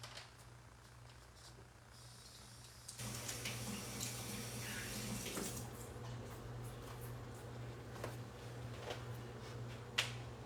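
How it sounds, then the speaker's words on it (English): Running tap water splashing over hands at a kitchen sink during cooking, a faint steady hiss with a few sharp clicks and snaps, starting after a quiet opening. "let me rinse my hands real quick"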